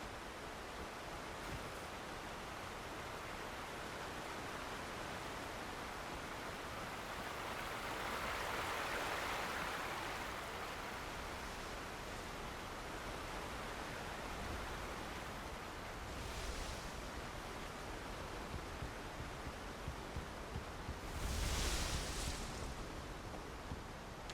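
River water rushing steadily in the Alan Wake Remastered game, a continuous broad wash of flowing water that swells slightly midway, with a few faint splashes and gusts near the end.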